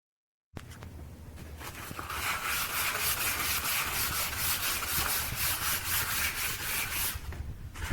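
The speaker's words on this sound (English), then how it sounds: "So that was just a little bit of sanding." Sandpaper rubbing on wood in quick, rhythmic back-and-forth strokes, close and steady after a moment of silence at the start.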